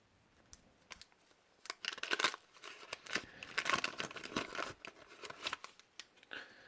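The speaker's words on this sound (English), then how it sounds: "These wrappers are not sticking very well, coming open pretty easy." 1991 Fleer baseball card pack wrappers torn open by hand, loose wrappers coming apart easily, with close, quiet bursts of crinkling and tearing plastic in irregular rhythm.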